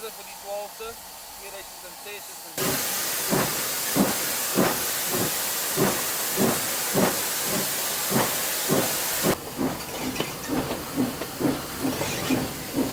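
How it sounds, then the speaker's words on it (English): Steam locomotive chuffing in a regular rhythm of sharp hissing exhaust bursts, fairly close and loud, with a steady background hiss of steam as the engine heads for the station. "Locomotive heads for the McAllisburg station to be serviced and turned around on the triangle."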